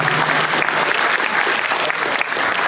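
An audience claps steadily together, a dense, sustained burst of applause that stays loud and even from start to finish, with no talking heard over it.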